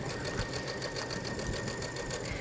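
A sewing machine runs steadily at a long basting stitch length of 5.0, stitching lace inserts into fabric, with a continuous, even mechanical whir that fills the clip up close.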